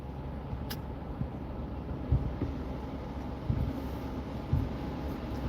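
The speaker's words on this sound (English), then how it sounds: "Man, it's windy as fuck on out here," Strong outdoor wind buffets the microphone in a steady low roar, swelling into a few heavier gusts, with no voices heard.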